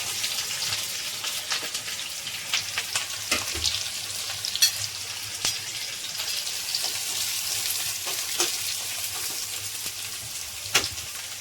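Onions and green chillies frying in hot oil with popped mustard seeds, a steady broadband sizzle with scattered sharp crackles and pops throughout, close and fairly loud, no talking.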